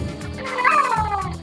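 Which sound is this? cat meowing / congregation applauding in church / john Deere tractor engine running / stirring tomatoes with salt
cat meowing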